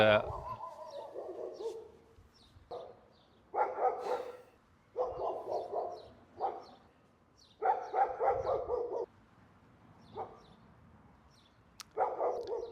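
A neighbour's dog at a house in Italy barks in repeated bursts of several yaps, separated by short pauses, coming from somewhere in the background at moderate volume.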